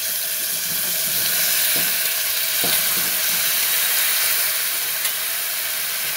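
Drumstick pods stirred into a spiced curry frying in a pan: a steady, loud, even sizzle with a few soft scrapes of the spoon, and no voice over it.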